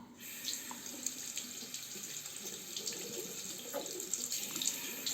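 A Muhle R41 safety razor is rinsed under a running tap, a steady close splash of water into a sink with small shifting spatters throughout.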